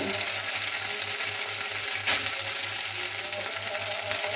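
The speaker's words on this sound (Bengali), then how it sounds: "তেল গরম হলে সয়াবিনগুলো দিয়ে দেবো" Soybean chunks, soaked in salted hot water and squeezed dry, crackle and sizzle steadily in a little hot oil close by, with one brief sharp clink partway through and no talking.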